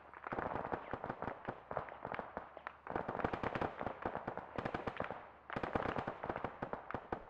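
Rapid bursts of rifle and machine-gun fire in the military shooter Arma 3, sharp cracking shots in dense strings with brief pauses between volleys, fairly distant and steady, no voices.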